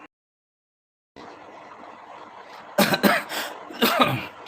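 A person coughs: after a faint, steady background hiss, two loud, harsh coughs come close together, then a third follows about a second later.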